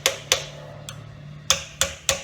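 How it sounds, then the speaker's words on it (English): A hammer strikes a Nissan GTR front shock collar in sharp, bright metallic taps: two quick hits, a faint one, then three more in an uneven back-and-forth rhythm, close and clear with no talking. "You're going to need your hammer again."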